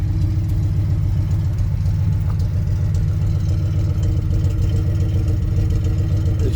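A 1977 Airstream Argosy motorhome with a stroker 454/496 Chevy big-block V8 and dual exhausts runs steadily, a deep, loud, lumpy rumble heard up close without talk.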